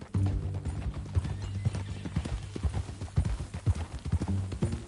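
A horse in a video game clip-clops along at a steady walking rhythm, its hooves close and clear over a low droning backdrop, with a brief whinny-like sound mixed in.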